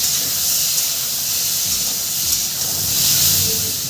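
Okra fries in oil in a pan while it is stirred, giving a loud, continuous bright hiss and sizzle with soft scraping underneath.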